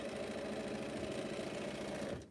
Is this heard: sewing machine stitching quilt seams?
yes